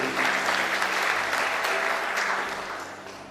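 A church congregation applauds during a Sunday sermon, a dense, loud burst of clapping from many hands that stays strong and then eases off near the end.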